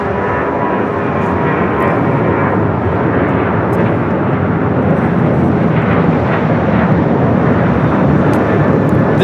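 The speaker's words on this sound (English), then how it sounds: "American Airlines 1889 taking off to Las Vegas on the 737-800" American Airlines Boeing 737-800 jet roaring down the runway on takeoff at LAX, a loud, steady, broadband engine rumble that holds throughout without a break.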